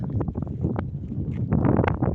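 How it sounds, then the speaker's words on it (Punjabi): Wind buffets the microphone in low, gusty rumbles that swell louder toward the end, with a faint mechanical drone underneath. "ਮਸਤ ਠੰਡੀ ਹਵਾ ਆ ਰਹੀ ਹੈ"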